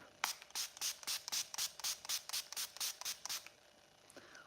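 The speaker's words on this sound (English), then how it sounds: "I will just spray it on my face as a first step" About fifteen quick, evenly spaced hisses of a pump spray bottle misting close by, crisp and short, followed by quiet.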